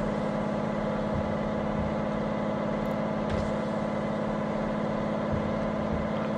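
A heavy truck engine in the game Truck Simulator Ultimate, hauling a military vehicle with the window open: a steady low droning hum with harmonic layers, constant and unbroken, with no talk over it.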